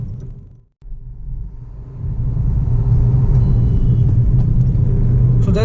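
A Honda Amaze diesel car engine runs close by, a low rumbling drone that drops out briefly, then swells into a louder, steady pull as the car accelerates.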